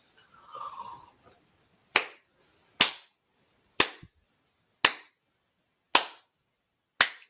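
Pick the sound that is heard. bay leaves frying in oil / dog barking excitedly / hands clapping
hands clapping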